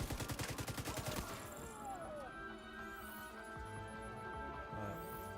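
Rapid automatic gunfire with disorient rounds in the shooter game The Division 2, a fast rhythmic burst of shots in the first second, followed by game effects and ambient tones.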